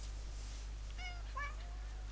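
A cat in a French-language game meows twice in quick succession, moderately clear over a low steady hum, with no speech during the calls.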